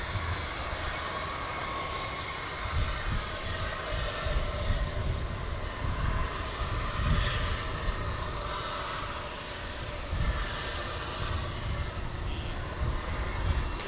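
A Qatar Airways airliner taxis at Dallas Fort Worth Airport, its jet engines producing a steady, broad roar from a moderate distance that holds throughout with slight swells.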